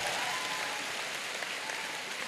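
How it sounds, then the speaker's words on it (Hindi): Students in a NEET exam-prep session clap loudly and steadily, a dense, even wash of applause that holds for a couple of seconds with no voices rising above it. "मैं चाहता हूं खुद के लिए जोरदार तालियां बजा दीजिए"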